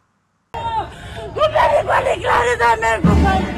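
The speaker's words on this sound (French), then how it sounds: "De pleurs, des cris, des émotions de toutes sortes." Mourners crying and shouting at a funeral ceremony held in the Stade de l'Unité in Goma, loud wailing voices and yells rising and falling close by, with a sobbing crowd swelling at the end.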